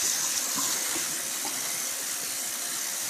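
Cold tap water pours steadily while pork is rinsed in a basket for Lao sour pork sausage, a continuous close splashing rush with no talking.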